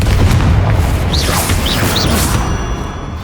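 A heavy booming explosion from the Confringo spell in Hogwarts Legacy, loud and sustained with a low rumble, with short whooshing magical sweeps on top that fade toward the end.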